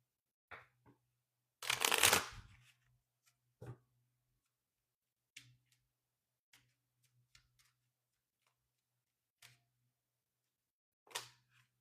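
Oracle cards being shuffled, one loud riffle burst near the start followed by scattered soft taps and card flicks in an otherwise quiet room.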